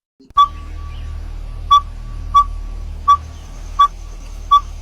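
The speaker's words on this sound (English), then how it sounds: "Yep, that dog is whistling. It's called a dhole, or an Asian whistling dog." A dhole gives six short, piercing whistles at irregular intervals over a low background rumble, each call clear and close.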